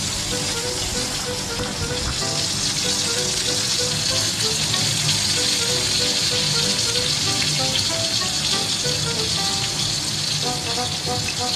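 Dense, continuous sizzling and crackling of large chicken drumsticks frying in hot oil, with frequent sharp spatters popping throughout.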